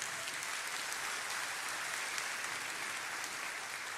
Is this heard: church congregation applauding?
yes